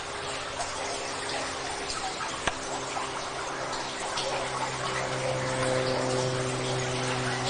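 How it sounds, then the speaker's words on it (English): Water pouring through a partly blocked old canal tunnel, a continuous rushing gush with a steady hum underneath, one sharp knock early on, sustained and fairly loud. "Absolutely pouring through water."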